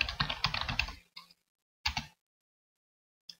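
Quick bursts of computer keyboard typing, a dense run of close clicking keystrokes followed by a few short isolated clusters and single taps separated by silence.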